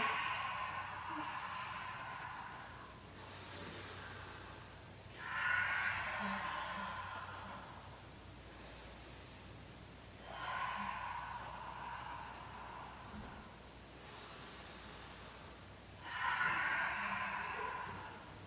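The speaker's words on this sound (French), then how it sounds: "Inspirez, soufflez en remontant" Long breaths exhaled during an intermediate Pilates floor exercise with no equipment, three slow audible breath-outs, close and fairly soft, spaced several seconds apart with quiet between them.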